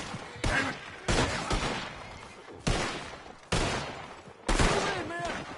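Gunshots ring out in the Red Dead Online game: five loud, sharp bursts spaced about a second apart, each trailing off, with shouting voices over them.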